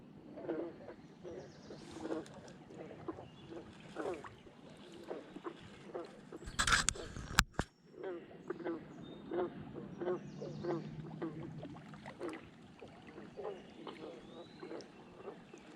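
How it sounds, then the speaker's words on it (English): Frogs croak along the Muskegon River in short calls repeated at a fairly steady rhythm, moderately close, with a brief loud knock and splash partway through. "Listen to the frogs."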